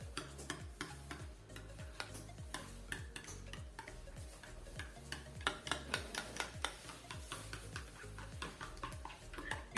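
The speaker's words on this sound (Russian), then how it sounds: "Все хорошо взбиваем." Sour cream and an egg beaten together in a bowl, a fast steady rhythm of close tapping and scraping strokes that continues throughout with no talk.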